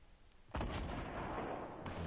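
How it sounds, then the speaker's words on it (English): Grenade blasts in the Fortnite Battle Royale video game on PS4, a sudden loud explosive burst after a quiet moment, followed by a sustained booming rumble with a second thump near the end. "Fighting, grenades"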